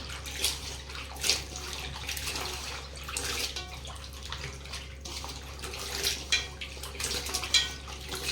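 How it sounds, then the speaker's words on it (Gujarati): Water sloshing and splashing in a container as mango seed kernels are rinsed by hand, with irregular bursts of swishing over a steady low background hum. "હવે આપણે બીજી વાર પણ પાણીમાંથી ધોઈ કાઢીશું આ રીતના."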